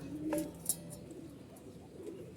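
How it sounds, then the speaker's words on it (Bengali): A female pigeon gives soft, low coos while being held and handled, the calls faint and close with a slight chirpy accent over a quiet background. "তো একটা কবুতর হলো এইটা, প্রথম একটা মাদি।"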